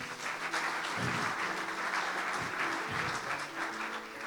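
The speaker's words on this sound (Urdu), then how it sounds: "زوردار تالیاں نہمیہ کے لیے" A congregation at a church service gives loud, sustained applause, with steady dense clapping throughout and a few faint voices mixed in.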